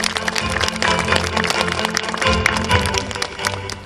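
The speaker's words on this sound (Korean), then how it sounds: "다시 한번 큰 박수 부탁드리겠습니다" Applause from a crowd at a groundbreaking ceremony for a kindergarten education center built on a closed school site, dense and steady throughout, mixed with loud background music or noise.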